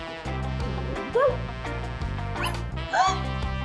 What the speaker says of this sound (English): He only barked after he smelled the sock